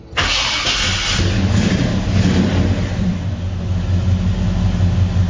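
A vintage car's engine cranks and catches within a split second, then settles into a steady, smooth, loud idle heard up close with no talk.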